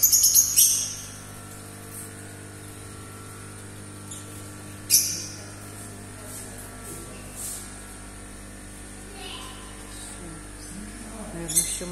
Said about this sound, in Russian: Красивые пташки, какие тут звуки прекрасные